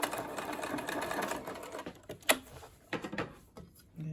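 A sewing machine back-stitches the pocket seam of a canvas tool roll, running a steady burst for nearly two seconds, then quieter short stitching pulses with a sharp click between them, close up.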